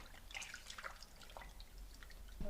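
Water drips and trickles as a palette sponge used with acrylic paint is rinsed in a bin of water and wrung out, with several small splashes close by and quiet in between.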